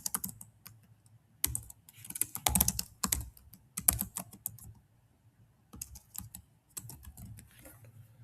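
Keys clatter on a computer keyboard as notes are typed into nursing software, irregular bursts of quick taps with short pauses, close and clear.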